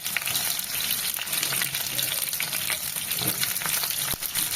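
White onion and ordinary onion fry in a pan for chilli paneer, giving a loud, steady, crackling sizzle that stays dense and close throughout, with no voices.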